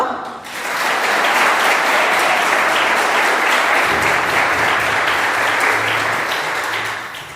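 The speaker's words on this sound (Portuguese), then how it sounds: "Vamos aplaudir ao Senhor?" Church congregation applauding after a prayer during a sermon service: a sudden onset into loud, sustained, dense clapping from many people that holds steady for several seconds before easing off.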